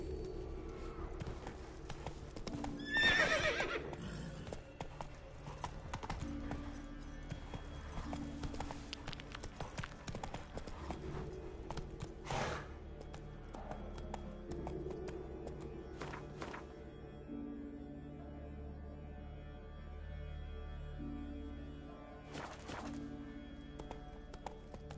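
Roach's hooves clip-clopping at a steady trot in The Witcher 3, with a sharp neigh early on and another near the end, under a low ambient game soundscape.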